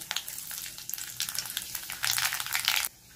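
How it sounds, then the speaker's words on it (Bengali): Dried red chili and nigella seeds tempering in hot oil, sharp spitting crackles that build into a dense burst of sizzling before cutting off abruptly, close and quiet, no speech. "প্রথমে দেবো একটা শুকনো লঙ্কা ফোড়ন, তারপরে দেবো কালো জিরে,"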